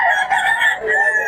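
Gamefowl roosters at Bocaue, including a Boston rooster, crow in a long drawn-out call with clucking mixed in, loud and close throughout.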